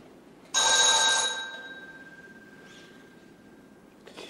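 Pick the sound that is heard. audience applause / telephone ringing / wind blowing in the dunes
telephone ringing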